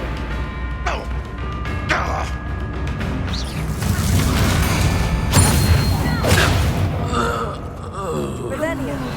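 Flipendo spell blasts go off during a hectic Hogwarts Legacy battle, a run of loud thumping impacts and crashes amid gasps, grunts and shouted voices, with combat noise continuing throughout.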